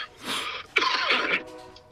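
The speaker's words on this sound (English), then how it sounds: "I got a cough going on." A man's cough during a relaxed spoken conversation, sounding as a short harsh burst or two close to the microphone, with broadband noisy energy, then trailing off quietly.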